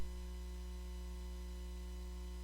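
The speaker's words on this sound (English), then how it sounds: "Mm-hmm. It's the air conditioner." Steady electrical hum from an air conditioner in a recording room, a constant low drone with faint static, quiet and unbroken throughout with no voices.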